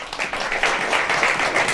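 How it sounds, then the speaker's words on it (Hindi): A church congregation at a Hindi sermon breaks into brief applause, a short burst of many hands clapping that swells quickly and holds. "एक बार जोरदार तालियां हो जाए इनके लिए।"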